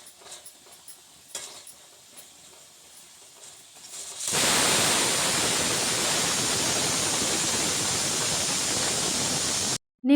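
A pressure cooker cooking rice for garlic rice lets off its whistle: after a few soft kitchen clinks, a loud, steady rushing hiss of steam bursts in and holds for about five seconds before cutting off abruptly.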